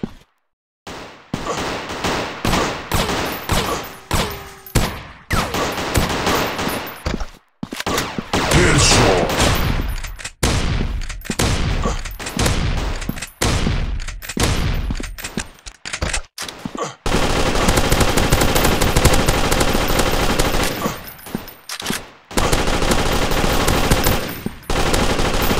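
Rapid automatic gunfire from the Android first-person shooter game Gun Strike, loud dense bursts and sustained volleys with brief pauses between them, continuing throughout.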